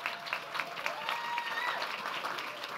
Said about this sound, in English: Round of applause for my cousin Angel one time